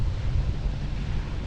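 Steady broadband wind rushing over the microphone with a low rumble of sea and hull beneath, a light breeze of about 4 to 5 knots building while underway on a sailing boat heading for Dartmouth; continuous, no voices.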